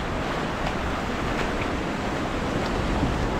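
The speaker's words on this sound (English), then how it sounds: "Little waves, as you guys can see." Small ocean waves at a clear-water South Florida beach wash in with a broad, steady surf hiss that is close and continuous, mixed with wind buffeting the microphone.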